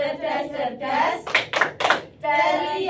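A classroom of children chants the "tepuk apa kabar" clapping routine, their voices briefly giving way to three crisp, loud unison hand claps before the chanting resumes.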